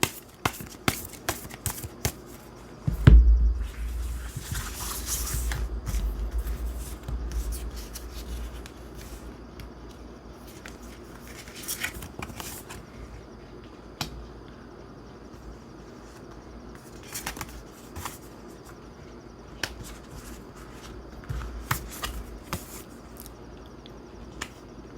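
Tarot cards being shuffled and laid out for a reading, with scattered crisp snaps and soft slides of cards on a surface, a brief louder shuffle early on, then sparse clicks in quiet surroundings.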